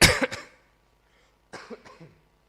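Two short bursts of coughing from someone recovering from COVID, a pair of harsh coughs, a pause, then another couple of rougher coughs, close and fairly loud.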